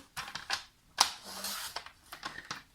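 Paper being trimmed for a scrapbook card from a 15 x 15 sheet, a run of close, crisp clicks and slicing rasps from a paper cutter, quiet and close.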